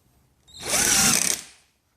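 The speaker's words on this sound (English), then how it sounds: "so now we're gonna put a few screws down the bottom" A power drill drives a screw into the bottom of a cabinet, one short loud whirring burst close by that ramps up and winds down in about a second.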